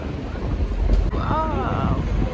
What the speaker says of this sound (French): on est en haut, il y a du vent